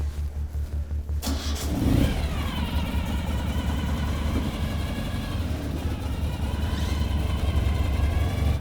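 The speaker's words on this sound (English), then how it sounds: "this vehicle has a 750cc Boxer engine, and has a quite a good torque" A Ural motorcycle's 750cc boxer engine fires up in snowy conditions with a sharp start, then settles into a loud, steady, close running drone with slight rises in revs and no talk over it.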